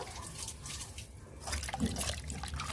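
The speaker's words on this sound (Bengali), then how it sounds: "আর আমি এই মাছটা ধুয়ে নেব" Fresh river fish, shele and tengra, are washed by hand in water in a basin in a village kitchen, with close splashing, trickling and dripping that grows busier partway through, and no talking.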